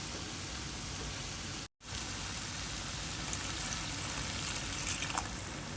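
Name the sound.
pouring half a glass of water into potato masala pan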